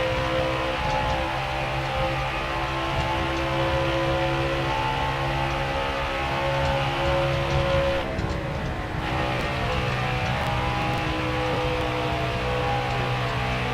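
Truck race engines roar continuously at Las Vegas in NASCAR Heat 4, a loud, steady high-revving drone with layered engine tones and a brief dip in the middle.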